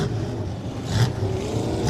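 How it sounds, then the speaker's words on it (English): A superstock race car at Delaware Speedway rolls out with a steady engine drone that swells slightly, heard with crowd and track noise in the background. "We're looking at Carson Nagy's car here as he gets ready to roll out"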